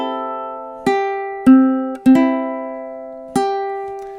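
Ukulele playing measure 5 of a song with open-string filler, four clean plucked chords ringing out in time, close and clear with no talk.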